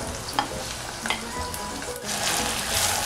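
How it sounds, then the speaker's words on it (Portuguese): Onion sizzles with seasonings in a pan as it is stirred, making a close, continuous frying hiss broken by occasional scrapes and clinks. "Refogadinha a cebola com os temperinhos"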